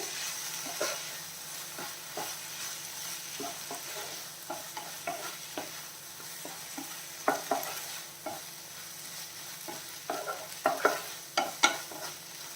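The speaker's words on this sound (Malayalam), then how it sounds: "നമ്മൾ എടുത്തു വെച്ചിരിക്കുന്ന മല്ലിയിലയും പുതിയന ഇലയും ഇട്ട് കൊടുക്കാം എല്ലാം കൂടെ ഒന്ന് നല്ല രീതിയിൽ മിക്സ് ചെയ്യാം" Tomatoes with coriander and mint leaves stirred around a hot pan for a chutney, a steady sizzle under irregular scraping clicks of the spoon that grow sharper and more frequent toward the end, with no talking.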